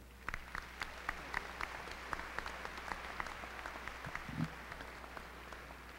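A commencement audience applauds at a 2014 University of Illinois College of Business ceremony, with steady, moderately distant clapping spread across a large hall and holding at an even level throughout.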